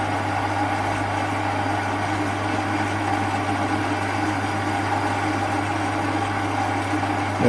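A Chinese CQ9325 10 x 18 metal lathe cutting on medium feed in a home workshop, giving a steady, even motor drone with a low hum, continuous and close, with no talking.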